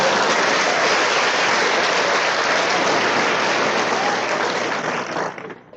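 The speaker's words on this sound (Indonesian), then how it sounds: "berikan tepuk tangan untuk saya." Audience applause for a speaker at a business talk, a dense, even roar of clapping from a large crowd that holds loud and then quickly dies away at the end.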